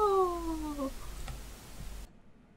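A video-game cat gives a single drawn-out meow that falls in pitch, followed by faint ticking and then abrupt silence.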